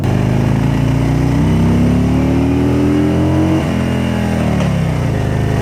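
A loud Harley-Davidson motorcycle engine revs steadily, its low rumble rising in pitch, dipping briefly, then climbing again, close by.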